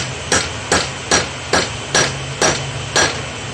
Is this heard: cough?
no